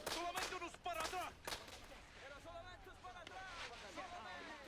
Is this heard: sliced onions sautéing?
no